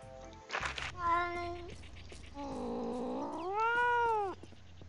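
A cat meowing near the microphone, several drawn-out, wavering meows in a row over a low steady background hum, with no talk.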